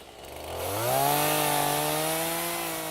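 Chainsaw revving up and cutting through dead limbs of Parkinsonia scrub, close and loud, the pitch climbing in the first second and then holding steady as it bites through the wood.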